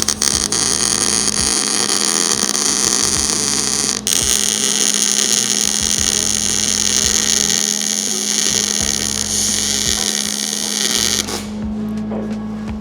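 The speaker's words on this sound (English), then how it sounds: "I'll weld this stuff in." Steel pieces being welded into a 1946 Pontiac frame give off a continuous loud, crackling buzz over a steady electrical hum, with brief breaks near the start and the end.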